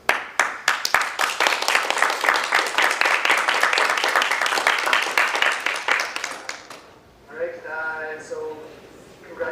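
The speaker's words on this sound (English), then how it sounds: "Bravo. Round of applause" Applause fills a room at a PhD defense, dense and sustained for several seconds before fading, after which a voice speaks alone.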